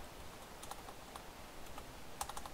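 Typing on a computer keyboard makes faint, quick key clicks, sparse at first, then a short rapid cluster near the end, over a low background hiss.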